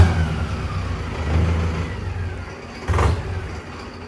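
A Mahindra Arjun Novo 605 DI 4WD tractor, a 50 hp diesel, idles with a deep, close, steady rumble and swells briefly twice as the throttle is blipped, with no talking.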